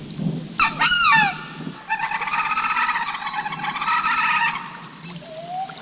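A hunter imitates a wood duck with a handheld call, producing a quick run of rising squealing notes, then a longer stretch of rapid, nasal, wavering whistles that carry close and fairly loud before trailing off.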